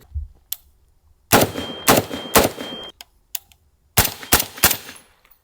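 A suppressed FN SCAR 16S SBR piston rifle fires two quick strings of three sharp, loud cracks each, with metallic clatter and short ringing tails and a pause between strings.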